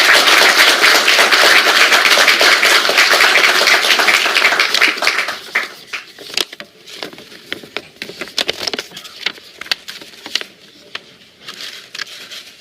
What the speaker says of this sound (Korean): 의원님들께서는 큰 박수로 환영해 주십니다.